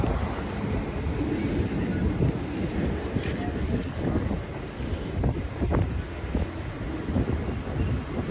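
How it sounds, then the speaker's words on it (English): Slow train rolling past in town, heard outdoors as a low continuous rumble with faint clanks, partly masked by wind buffeting the microphone, and a voice speaks briefly over it. "We got a slow ass train."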